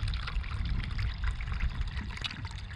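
Tap water running steadily into a garden setting, a continuous bright trickling splash with a low rushing undertone, close and moderately loud with no talking.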